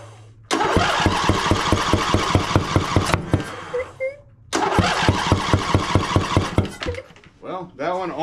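A riding mower engine with one spark plug disconnected, after running out of oil, cranks in two loud close bursts of rapid chugging, almost catching, with brief pauses and some talk between them.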